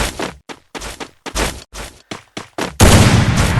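Rapid bursts of gunfire in the Free Fire battle royale game, loud and close, with short volleys separated by brief gaps before a sustained continuous barrage at the end.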